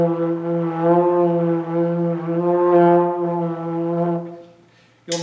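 A low brass instrument held on one sustained note, played with a shallow, weak exhale, a buzzy tone that swells and sags unevenly in loudness before fading out, followed by a brief noise at the end.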